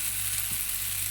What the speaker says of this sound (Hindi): बस इतना ही हमने प्याज को सौते करना है